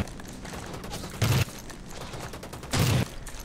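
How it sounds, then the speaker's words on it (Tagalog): Aggressive gunfire in the battle royale game Rules of Survival: two loud, short bursts of automatic fire about a second and a half apart, heard over steady background game noise. "Ang aggressive niya bumaril."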